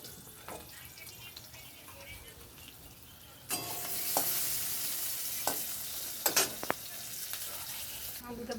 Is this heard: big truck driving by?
no